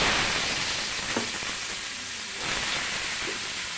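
Cabbage frying in oil with dried chili and mustard seeds gives a steady, fairly soft sizzle throughout, with a faint clink or two of stirring and no voices.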